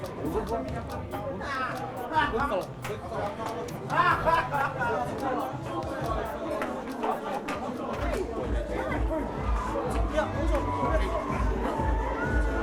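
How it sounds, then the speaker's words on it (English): A young, drunken crowd fills a car park beside a bar with a continuous babble of overlapping voices and occasional louder shouts, moderately distant and steady throughout. "a young intoxicated crowd is taking over the car park"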